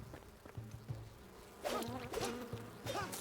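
Buzzing bees in a video game, a droning insect hum that swells and fades in short passes over a quiet background, with no talking.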